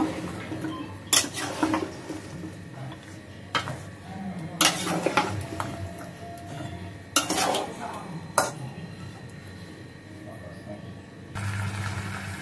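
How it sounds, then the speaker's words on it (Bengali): Bottle gourd being sautéed in a cooking pan, with sharp metal spatula scrapes and clinks against the pan at irregular intervals over a quieter background, and a voice speaking at times. "আমি এবার লাউটা কষিয়ে নিব।"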